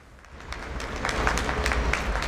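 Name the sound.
people applauding from balconies in Rome for medical staff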